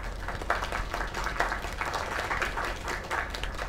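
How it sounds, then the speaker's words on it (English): A video game crowd claps continuously, many hands blending into a steady, moderately loud round of applause. "Another round of applause."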